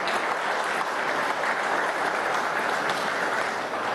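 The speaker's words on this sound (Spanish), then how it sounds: "Un aplauso a nuestra Fuerza Armada Nacional Bolivariana." A crowd at a Venezuelan government broadcast event in Zulia applauds the armed forces with continuous, dense clapping at an even loudness throughout.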